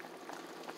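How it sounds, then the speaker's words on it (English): A pot of Bahamian chicken souse with onions bubbles at a steady low boil, a brief, close burst of soft gurgling and popping. "we will allow the pot to boil for about 15 minutes"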